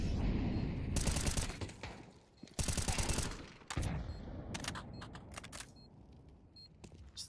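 Desert Eagle pistol shots in a Counter-Strike 2 esports match, several sharp cracks in quick clusters mixed with other gunfire, heard fairly faintly under a continuous game background.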